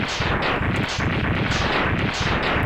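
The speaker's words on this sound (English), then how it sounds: "enjoy overdramatic explosion and palette change" A stage boss blows up in the Mega Man X video game with a dense, continuous barrage of rapid, loud blasts in a rolling pulsing rhythm, heard alone without speech.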